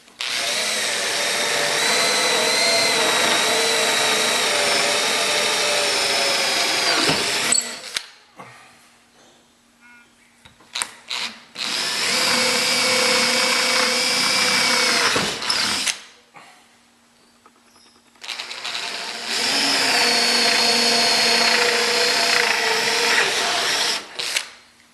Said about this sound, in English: you drill a hole straight through the table